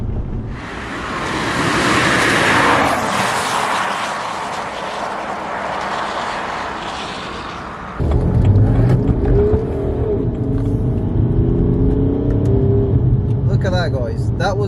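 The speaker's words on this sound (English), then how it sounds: "That was me with like full throttle going around that turn" A BMW E90 335d diesel saloon is taken through a turn at full throttle, a loud broadband engine and road roar that builds and holds, then gives way to steady cabin rumble while someone talks over it.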